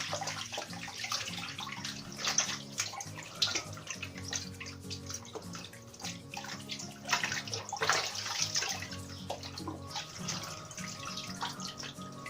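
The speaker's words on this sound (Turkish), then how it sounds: "Üzüm yapraklarımı bozmadan güzelce yıkamış oldum." Fresh grape leaves being washed by hand under running water, a steady close tap flow with soft splashing and wet handling sounds throughout, no talking.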